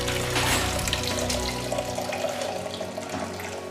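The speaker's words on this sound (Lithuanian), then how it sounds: "dabar pilu karšto vandens" Hot water poured into a pot in a kitchen while preparing a dessert, a steady loud splashing rush of liquid that thins toward the end.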